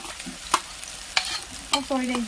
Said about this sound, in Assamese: এইখিনি ভালকৈ আদা নহৰু পেষ্টৰ কেঁচা গোন্ধটো যোৱালৈকে ভালকৈ ফ্ৰাই কৰি ল'ব লাগিব।